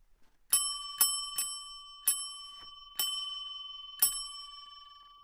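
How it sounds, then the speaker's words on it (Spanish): A bell rung at the door of a boarding house, six bright metallic dings struck at irregular intervals, each ringing out and fading before the next, clear and close in a quiet room. "Hice sonar el timbre."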